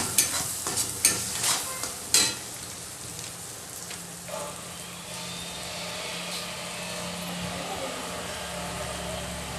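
Kande pohe ingredients are stirred and sautéed with turmeric in a pan: a few sharp scraping clinks of the spoon at first, then a steady, close, soft sizzle of frying that carries on alone.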